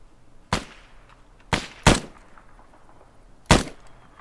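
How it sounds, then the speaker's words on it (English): Four sharp gunshot cracks ring out in a video game, spaced unevenly, with two close together near the middle, each with a short decaying tail over a quiet background. "I'll just fire the shot."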